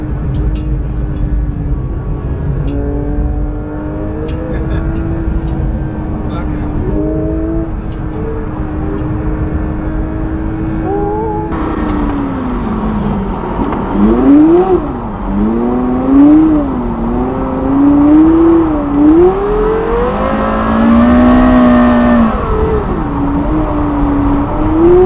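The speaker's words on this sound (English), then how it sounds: "this man who drifts his Porsche Carrera GT like it's a Japanese drift car" Porsche Carrera GT engine revving hard while drifting, rising and falling pitch sweeps building louder in the second half, steady and close with no talk.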